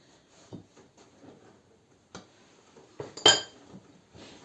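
A spoon clinks and scrapes against a bowl while stirring stollen dough with honey, in a few irregular taps, with one louder clink near the end, in an otherwise quiet room.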